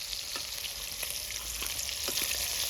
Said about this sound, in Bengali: হলুদ তেল পড়ে গেছে না মাছে, ওই জন্য ফুটছে